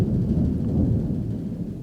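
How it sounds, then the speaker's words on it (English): A thunderstorm rumbles outside and shakes the building, a loud, sustained low roar filling the whole stretch with no voices over it. "Sorry, there's a storm."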